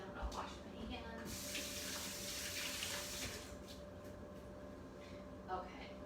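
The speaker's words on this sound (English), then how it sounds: "then I'm gonna wash my hands" Tap water runs steadily into a sink while hands are washed in a kitchen, a soft hiss rising and then easing off, with a few faint clinks and quiet background noise.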